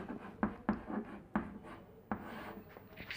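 Chalk or marker strokes on a classroom board during a linear-equations lesson, a series of sharp scratchy taps and short rubbing strokes, close and clear with no talking.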